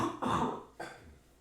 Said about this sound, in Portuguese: Voltei a tossir, desculpe.